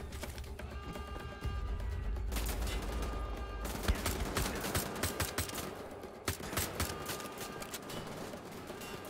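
Gunfire in the video game Wolfenstein: The Old Blood, with dense bursts of automatic fire and scattered single shots under a steady rumble, fairly quiet and continuous across the scene.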